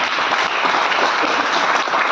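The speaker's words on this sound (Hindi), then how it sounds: "एक बार पन्ना धाय के लिए आपकी तालियां देखना चाहिए।" Audience applause at a Hindi poetry recital, a steady dense wash of many hands clapping that fills the whole moment at an even, fairly loud level with no voices over it.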